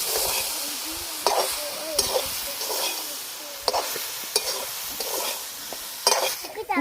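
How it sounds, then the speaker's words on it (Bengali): Jujube fruit is mixed with salt and turmeric in a pan for pickle, producing a continuous stirring sizzle with repeated scraping knocks of the utensil at a steady rhythm. "নুন আর হলুদ ভালো করে আমি মিশিয়ে নিচ্ছি।"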